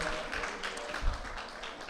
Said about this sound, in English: And yes, our applause for Rohan.